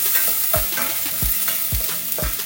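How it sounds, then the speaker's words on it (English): Ginger garlic paste fries for a makhni gravy, a constant close sizzle broken by four evenly spaced thumps of a utensil stirring the pan. "So as the ginger garlic cooks"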